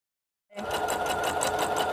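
A sewing machine stitching a natural fabric tote bag starts up after a brief silence and runs steadily with a fast, even mechanical whir and rapid needle clatter, close and alone.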